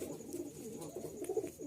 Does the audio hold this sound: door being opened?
no